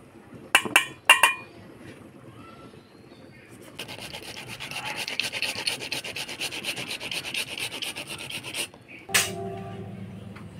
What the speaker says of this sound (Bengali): এবার টমেটো ঘষে নিব।